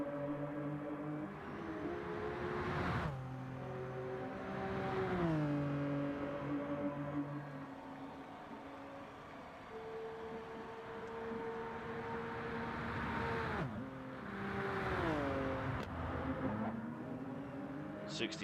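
A Hyundai race car, a Genesis in a one-make face-off, accelerates down the straight, its engine note climbing through repeated gear shifts with rising and falling pitch sweeps, loud and close throughout.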